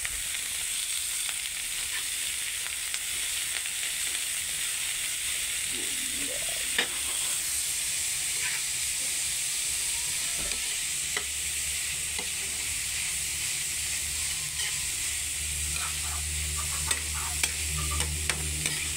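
Kuhol snails being stirred and sautéed in a pan, a steady moderate sizzle with occasional clicks and scrapes of a utensil against shells and metal, no talking.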